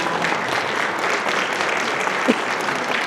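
Sustained applause from an audience at the opening ceremony of a Sejong City commercial vacancy fair, honoring the mayor; dense, even clapping fills the whole stretch without pause, loud and steady, no voices over it.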